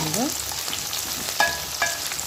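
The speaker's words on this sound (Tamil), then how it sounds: "இந்த வெங்காயம் பூண்டு பச்சை மிளகாய் எல்லாம் சேர்த்து நல்லா வதங்கட்டும்" Onion, garlic and green chilies sauté in a pan with a steady close sizzle, broken by a few sharp scrapes and stirring clinks from a spatula; no speech.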